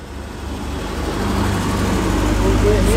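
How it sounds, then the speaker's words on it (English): A TVR Tasman drives past at a classic car show with a low engine rumble that grows steadily louder as it approaches, under broadband outdoor noise and possible talk. "Here comes one of the TVR Tasmans"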